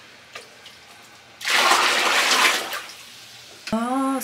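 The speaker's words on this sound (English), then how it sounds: "Cold water." Cold water is poured inside a temazcal sweat lodge at Lake Atitlán, Guatemala, in a loud splashing gush lasting nearly two seconds. The room is quiet before it, and a voice begins speaking right after.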